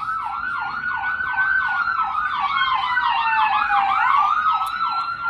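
Wailing emergency sirens from an ambulance and police vehicles pass nearby on a spring evening, loud rising-and-falling tones overlapping and sliding in pitch as they move, with no talk over them.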